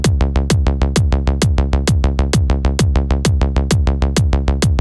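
A driving psytrance groove: a thumping kick drum alternates with rolling bass notes in a fast, steady, relentless rhythm, loud and close.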